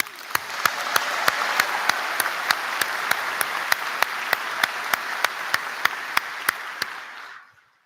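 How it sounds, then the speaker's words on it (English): A crowd applauds at a university graduation ceremony, a dense, even wash of clapping from a large audience that holds steady before fading out near the end, with sharp regular clicks cutting through it. "And pause for applause."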